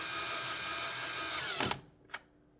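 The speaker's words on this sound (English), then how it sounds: "Now, reinstall the screw." A power drill drives a screw to secure a GE ice maker in the door of a French door refrigerator, whirring steadily and close, then stopping abruptly, followed by a brief click.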